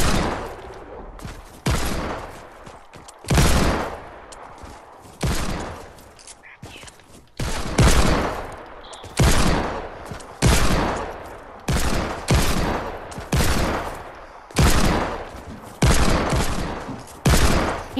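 Gunfire in the game Freefall, played in creative mode, comes as loud, repeated separate shots at a steady, fairly even pace across the whole stretch.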